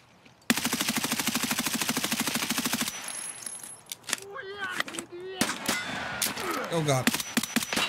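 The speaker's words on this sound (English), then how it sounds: "Shots over at dorms." Gunshots in Escape From Tarkov: a sustained rapid burst of automatic fire for about two seconds, then scattered, sharper single shots while someone talks over them.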